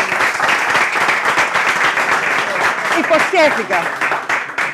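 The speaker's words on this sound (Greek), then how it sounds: "Χειροκρότημα." A studio audience on an Easter entertainment show gives dense, loud applause that runs the whole time, with a voice talking over it toward the end.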